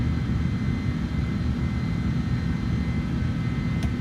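Twin CF6 jet engines roar on an airliner climbing out of EGLL in Microsoft Flight Simulator 2020, a steady, loud, continuous low rumble with a broadband hiss that holds unchanged for the whole stretch, with no voices.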